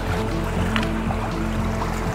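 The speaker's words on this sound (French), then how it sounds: "Avec les vagues, c'est un peu pénible." Water laps and churns near the bank of a canal during a feeder fishing session, a continuous close, loud wash with low rumbling and no voices.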